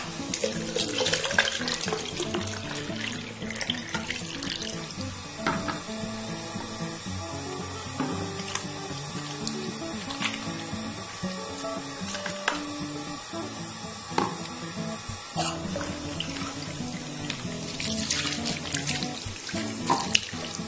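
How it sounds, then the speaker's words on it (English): Tap water runs steadily into a bathroom sink during handwashing, a continuous close splashing stream with small clinks and shifts in flow throughout. "now I have to wash my hands and brush my teeth"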